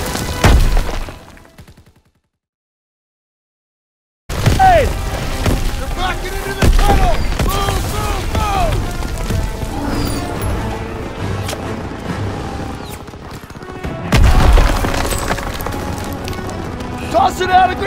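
Grenade blasts in Call of Duty WWII combat, loud booming hits among clattering, busy battle noise and shouted voices, with a brief dropout near the start and a heavy low thump later on.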